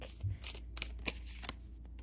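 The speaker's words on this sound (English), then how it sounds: "Let me give this a quick shuffle." Tarot cards are given a quick shuffle during a tabletop reading, a soft papery riffle with a few light flicks and taps over a low steady background hum.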